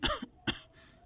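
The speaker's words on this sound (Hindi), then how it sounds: "मेरे खांसी बहुत होती है।" An elderly woman in a village home coughs twice in quick succession, close and sharp, followed by a faint breathy trailing sound.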